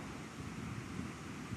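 Water pours over the Sherrill waterfall, heard from some distance as a steady broadband rush with no breaks. The roar blends with gusts of wind noise on the microphone, and no one speaks.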